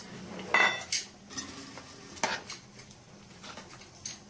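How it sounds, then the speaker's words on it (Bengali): Fried cauliflower goes into a pot of khichuri made with Badshabhog rice and mung dal, with a handful of quiet metallic clinks and scrapes of a spoon against the pot and soft clatter between them. "এবার ভাজা ফুলকপিগুলো দিয়ে দেবো।"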